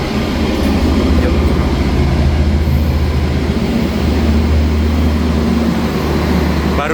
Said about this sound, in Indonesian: Kereta api Argo Lawu ke Solo baru saja melintas.